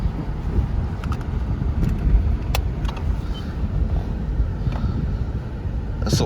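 A 2006 Lexus LS430 car driving, heard from inside as a steady low road and engine rumble with some wind noise, fairly constant throughout with a few faint clicks.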